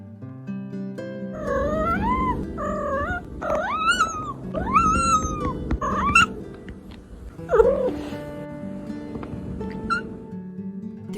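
Pet cat meowing repeatedly and insistently in a string of varied, rising-and-falling calls at close range, with short pauses between meows and no talking.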